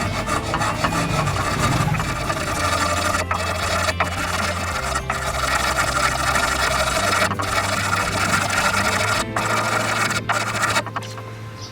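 A Honda CD50 engine part rubbed flat by hand on 120-grit sandpaper over glass with water, a continuous loud scraping and rasping with brief pauses between strokes, no voices.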